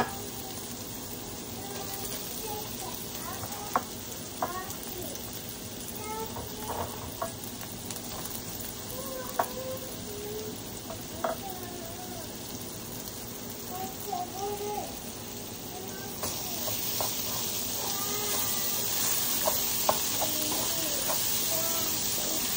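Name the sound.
mashed banana frying and being stirred with browned onion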